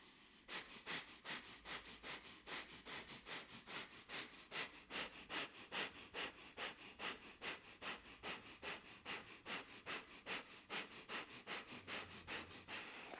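Bhastrika yoga breathing during a morning flow, with rapid, forceful breaths pumping in a steady fast rhythm, about two per second, each a sharp, airy nasal burst. The breaths are close, even and unbroken for the whole stretch, with no talking.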